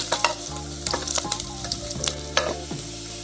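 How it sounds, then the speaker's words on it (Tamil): Onions sautéing in a pan for vegetable biryani: a steady close sizzle with repeated scraping and stirring strokes of a utensil against the pan, continuous and fairly loud with no voices. "நல்ல வெங்காயம் வதங்கி"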